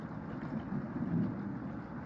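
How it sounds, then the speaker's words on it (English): Steady rain falls in the video game Cooking Companions, a soft, even wash of drops that holds a constant level throughout, with no voices. "Wish the rain would stop."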